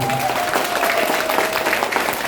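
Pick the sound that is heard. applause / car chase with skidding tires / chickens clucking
applause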